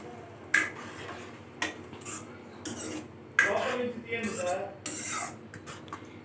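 A spoon clatters and scrapes against a metal pot while mixed vegetable curry is stirred after chili powder and soaked tamarind pulp go in, giving a few sharp clinks and longer scraping strokes close up, with no voices.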